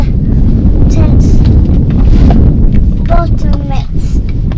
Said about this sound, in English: This area tends to get pretty windy